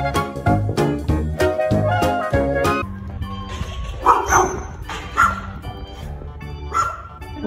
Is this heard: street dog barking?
yes